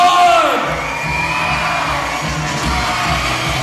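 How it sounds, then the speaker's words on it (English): Crowd at a sideshow screaming and cheering, a loud, dense wall of yells and whoops sustained throughout, with a voice briefly audible within it. "I want everybody to scream."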